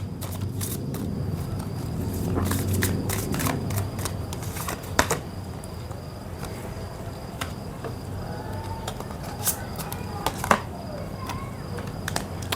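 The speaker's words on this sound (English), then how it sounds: "So I'll just shuffle it and you guys can think about the person you want to know this about." Tarot cards are shuffled by hand, with quick, close rapid clicks and riffles coming in uneven bursts over a faint background chirp, and nobody speaks.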